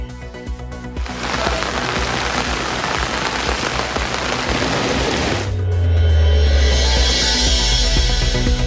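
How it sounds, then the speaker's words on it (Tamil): Heavy rain pours down in the Coonoor and Gudalur area of the Nilgiris, a loud dense hiss of drops on surfaces that is later joined by a deep low rumble. "குன்னூர், கூடலூர் சுற்றுவட்டார பகுதிகளில் கனமழை."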